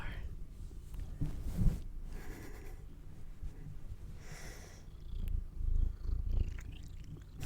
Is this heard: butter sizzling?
no